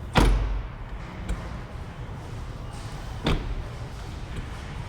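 A solid thud of a 2011 Rolls-Royce Ghost car door shutting near the start, then a softer second thump a few seconds later over steady outdoor background noise.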